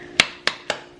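A knife chops through an avocado on a cutting board in three sharp, evenly spaced cuts, each a crisp close knock that fades quickly.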